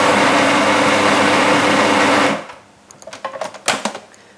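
Blender grinding nuts, a loud steady whirring motor for about two seconds that then cuts off, followed by scattered knocks and taps of the jar, no talking.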